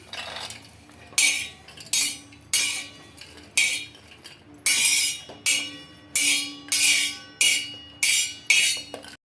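Fried small bitter gourds are scooped from a pan onto a plate, giving about a dozen bright metallic scrapes and clinks in a steady, evenly spaced rhythm, close and fairly loud with no talking.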